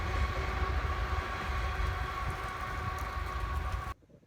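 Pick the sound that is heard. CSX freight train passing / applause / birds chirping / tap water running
CSX freight train passing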